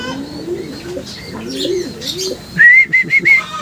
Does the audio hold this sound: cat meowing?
no